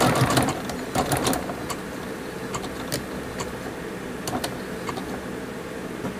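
A sewing machine stitches a craft cord koozie, running in a steady fast whir with clicky bursts near the start and scattered sharp ticks throughout, close and alone with no voices.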